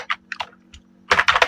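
Typing on a computer keyboard in a spreadsheet, a few separate light keystrokes followed by a quick close burst of clicks.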